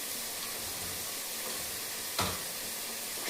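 A soft, even sizzle comes from a pan where asafoetida powder is being sautéed for gooseberry rice, with one brief stir or scrape partway through and no voices.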